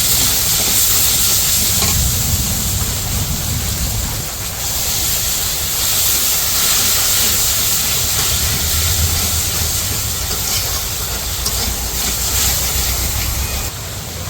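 Turmeric, chilli and cumin powders frying in oil in a pan for a village-style kachur loti curry with shrimp, giving a steady, loud sizzle and hiss that runs throughout with light stirring scrapes and no talk.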